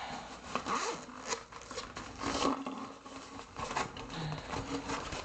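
Zipper on a Denver ukulele gig bag is drawn open in several quick rasping pulls, close and crisp, with rustling of the fabric between strokes.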